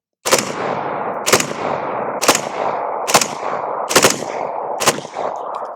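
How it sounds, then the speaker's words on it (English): An AR-15 fitted with a forced reset trigger fires six sharp shots spaced just under a second apart outdoors, each one followed by a lingering echo that decays slowly. "you can always switch all the way to the FRT, and you can do bursts"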